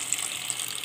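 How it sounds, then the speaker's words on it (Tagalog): Water poured from a tap or container into a pot of mung bean stew, a steady close splashing gush with no talk. "Bigyan natin ng kunting tubig."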